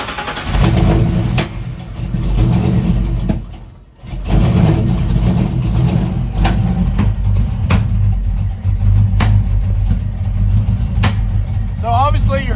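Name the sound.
car engine backfiring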